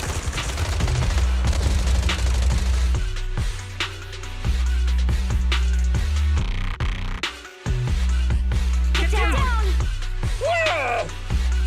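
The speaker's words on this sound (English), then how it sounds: "Gunfire? This pattern. Suppressive marching fire." Rapid bursts of automatic gunfire in the video game Zenless Zone Zero crackle over a dense, loud soundscape, with voices and sharp electronic sounds mixed in.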